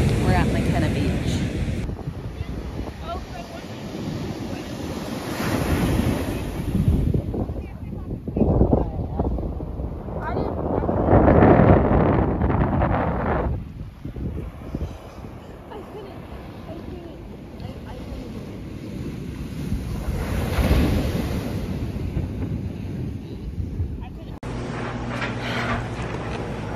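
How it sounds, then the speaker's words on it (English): Strong wind buffeting the microphone at Makena Beach, Hawaii, a loud continuous roar that swells and fades in gusts, with ocean surf folded into the rumble and voices talking over it at times. "The beach was super nice, but the wind was blowing like crazy"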